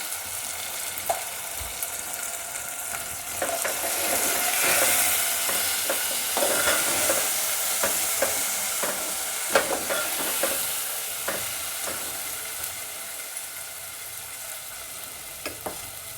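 Vegetables with tomato and turmeric being stirred and sautéed in a pan for a Bhogi mixed-vegetable curry, a steady sizzle with repeated scraping and clinking of the spoon against the pan throughout, close and moderately loud, no talking.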